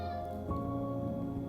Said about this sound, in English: He keeps meowing.